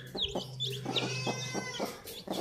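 Newly hatched country chicken chicks peep and cheep in quick, high, chirping calls, a close cluster of small overlapping voices with a faint steady hum beneath.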